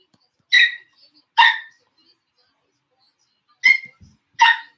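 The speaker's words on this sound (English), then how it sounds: "Yes, it's my dog, and he's bothering." A pet dog barks indoors, on edge after people arrive home: four sharp, loud barks in two widely spaced pairs, separated by near silence.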